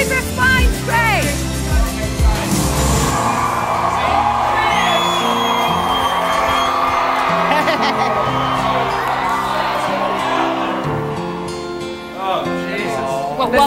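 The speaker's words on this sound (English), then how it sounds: "Oh, they're cheering and they're loving him." Crowd cheering at the Celebrity Big Brother UK live show, a loud sustained roar with whoops, shouts and yells rising and falling, mixed with excited voices.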